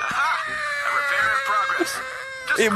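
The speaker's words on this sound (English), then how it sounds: "Why is this banana screaming?" A screaming banana character in the VR horror game NOPE Challenge, with shrill wavering screams and whimpers rising and falling throughout, close and loud.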